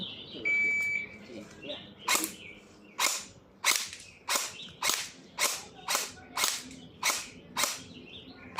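A short electronic shot-timer beep sounds, then about a dozen sharp, evenly spaced gunshot pops ring out one after another during shooting practice.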